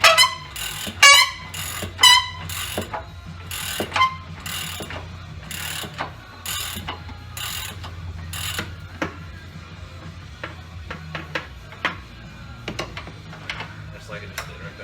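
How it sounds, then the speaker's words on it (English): A wrench used as a ratchet on the rear air shock bolt of a 2002 Chevrolet Suburban, with sharp, rapid clicking strokes up close at first, then lighter, sparser ticks and clanks. "I got the ratchet on the back side of this thing, so I can use the wrench as a ratchet"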